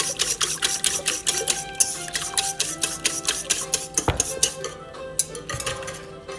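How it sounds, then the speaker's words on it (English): Fast, steady clinking of a whisk beating eggs in a pan, a rapid metallic rhythm that continues close up for the whole stretch, with no talk. "We can grab our whisks now and nicely whisk it together."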